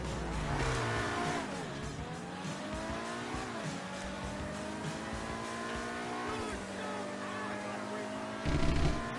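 In GTA Online, the Gretti Vision supercar's engine revs up through rising gear pulls, each climb ending in a drop at the shift. The drive is loud and continuous, with a burst of noise at the end.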